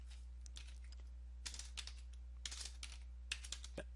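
A computer keyboard is used to type a short command at a Windows recovery command prompt. Soft, close key clicks come in quick irregular bursts over a low steady hum.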